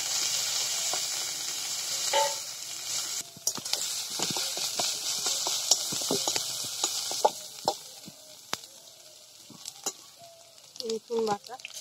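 Onion paste sizzling as it fries in a pan for Bengali prawn curry: a steady hiss runs throughout, broken by scattered clicks and scrapes of stirring, fairly close.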